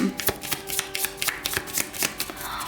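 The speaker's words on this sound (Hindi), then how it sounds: "चलिए शफल कर लेती हैं कार्ड्स को" Tarot cards being shuffled by hand, a close, fairly loud run of riffling and slapping strokes that repeat in an uneven rhythm throughout.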